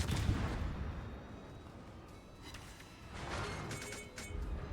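Bow guns on a Tier XI German cruiser, the Clausewitz, firing in World of Warships: muffled, distant-sounding booms over a steady rumbling roar of battle noise, fairly quiet overall.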